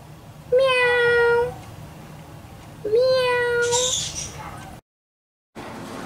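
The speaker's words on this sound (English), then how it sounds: "There's the cat." House cat meowing at home, two long drawn-out meows a couple of seconds apart, close and clear over faint background noise.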